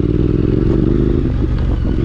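A light off-road motorcycle rumbling up close on rocky mountain ground, a loud continuous engine drone with clattering and scraping from the stony trail, no voices.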